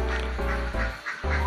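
Ducks on a duck farm quack loudly and close, several harsh nasal calls overlapping in quick succession with a short lull before the chorus resumes.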